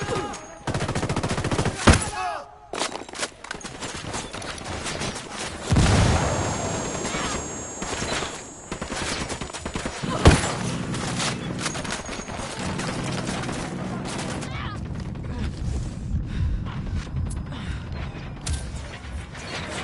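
Gunfire in Ghost Recon on PS4: rapid bursts and single heavy shots, loud and close, spread across the whole stretch amid mechanical clatter and rumbling booms.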